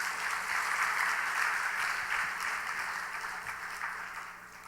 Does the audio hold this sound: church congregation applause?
yes